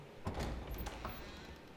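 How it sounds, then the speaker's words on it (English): A door is unlocked and pushed open in the horror video game Tormented Souls 2: a few soft clunks and a creaking swing over a low, murky background, fairly quiet and close. "Unlock this door."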